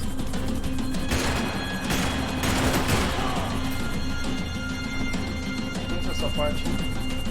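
Gunfire in a classic Xbox 360 game: bursts of shots crackle under frantic in-game voices and dense action noise, loud and continuous.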